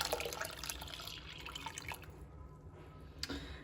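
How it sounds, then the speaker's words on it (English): Lemon juice, 500 ml, is poured into a pot for lemon cordial, a steady watery trickle and splash that runs continuously before tapering off, with a brief drip near the end. "So now I'm going to get my juice. So I have 500 mils. And I'm going to pour that in."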